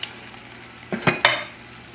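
Food fries in a generous amount of oil in a pan over a low flame. A few short crackling sizzle bursts come close together midway through, above a faint, quiet background.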